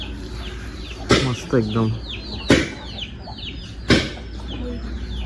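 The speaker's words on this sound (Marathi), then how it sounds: "त्यांच्याकडे कोंबड्या आहे, गावरान कोंबड्या." Free-range village chickens at a tiled-roof house on a Pune–Gokarna road trip, with several loud close clucks and squawks over outdoor background and a brief voice speaking.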